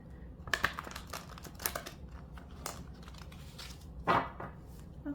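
Deck of tarot cards being shuffled by hand, a few short papery riffles and slaps spaced across a quiet room, close and fairly soft.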